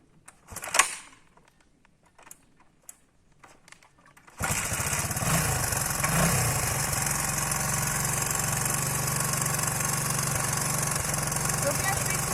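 A Honda XR 125 enduro motorcycle starts up after a few seconds of quiet knocks and handling noises, then settles into a steady, close, continuous idle with no talking over it.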